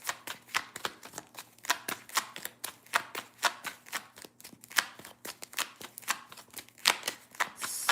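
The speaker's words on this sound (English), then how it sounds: "Give it one more shuffle here." Tarot cards are shuffled by hand, a quick run of crisp papery riffles and slaps in an uneven rhythm, close and clear with no talking.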